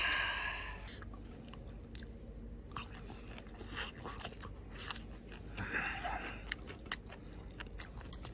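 Someone bites and chews braised, cold-dressed pig ears, giving close, quiet crunches and wet chewing in an irregular rhythm with no talking.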